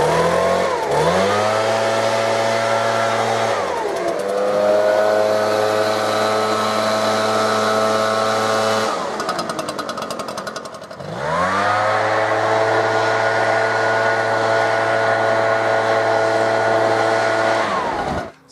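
An ECHO PB-770T backpack leaf blower's engine roars loud and close, dropping to a lower idle and then surging back up to full throttle several times in a steady cycle.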